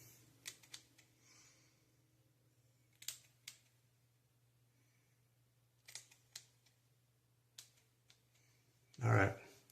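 Sharp scissors snip at a handlebar mustache during trimming, giving a few scattered, quiet close-up clicks and cuts over a low steady hum, ending with a brief louder rustle.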